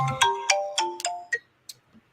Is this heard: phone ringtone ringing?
yes